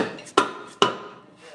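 Slide hammer yanking a bearing out of a transfer case with a bearing extractor set: two sharp metallic impacts about half a second apart, each ringing briefly before fading, fairly close and loud.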